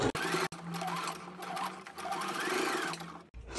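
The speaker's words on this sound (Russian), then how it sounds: "И теперь прокладываю строчку по низу до начала ручки." A sewing machine runs steadily and close up, stitching along the bottom of a bag made of cord, with a fast mechanical whir and brief stops at the start and end.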